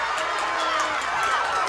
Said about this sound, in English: Crowd is getting behind him.